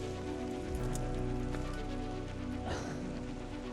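Rain patters steadily on surfaces beside a small carp-fishing lake, a dense continuous hiss of drops, close and fairly quiet, with no talk.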